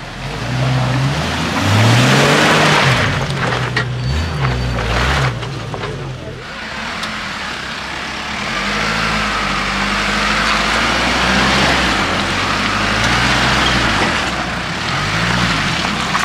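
A Jeep 4x4 engine drones steadily as the vehicle drives through a Jeep gathering at Crans-Montana. Low, wavering revs rise and fall over the whole stretch, and people talk faintly in the background.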